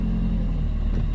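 A 2002 Nissan Sentra SE-R Spec-V engine with a new throttle body, idling with its revs hanging high: a steady, loud, close engine drone and low rumble that holds without a break.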